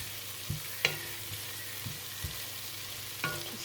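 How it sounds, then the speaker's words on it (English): Garlic sizzling in a pan for nettle and dandelion soup, a steady faint hiss of frying broken by a few sharp clinks and scrapes of stirring. "Just add the garlic. And we're just gonna just fry that just a little bit longer."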